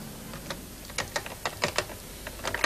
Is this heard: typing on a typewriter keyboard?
yes